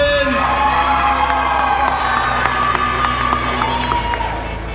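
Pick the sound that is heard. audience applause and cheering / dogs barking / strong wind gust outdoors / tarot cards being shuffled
audience applause and cheering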